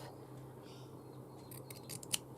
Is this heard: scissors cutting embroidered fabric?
yes